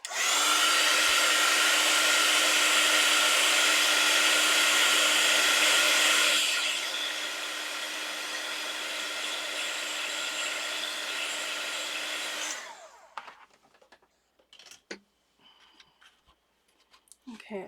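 Heat tool blowing steadily as it sets embossing powder on a Christmas card page, a loud continuous whoosh that drops in level partway through, then cuts off, leaving faint handling clicks.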